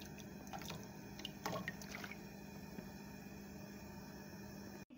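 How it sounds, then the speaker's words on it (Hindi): Vinegar goes into a pot of water for a Ramadan biryani, a thin trickling splash with a few drips at the start, fading into a steady watery hiss. "टू टेबलस्पून हम इसमें सिरका ऐड करेंगे।"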